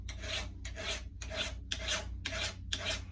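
A metal file rasps across the blade of sheep hoof trimmers in six even strokes, each a close, loud scraping rush with brief pauses between.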